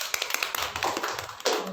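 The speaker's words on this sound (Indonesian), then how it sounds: "Tepuk tangan dulu." Congregation clapping hands during a church service, a short burst of several sharp, fairly close claps with a louder swell near the end.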